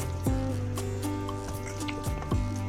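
Salted chicken pieces being squeezed by hand in a kitchen, giving a few wet squishing drips and splashes of water at irregular intervals, close and fairly clear.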